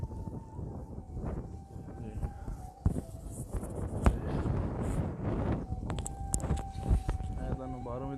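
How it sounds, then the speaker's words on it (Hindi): Strong cold wind blows outdoors at a shrine, a steady rushing roar buffeting the microphone throughout, under someone talking continuously. "बहुत ठंडी हवा चल रही है बहुत ठंडी"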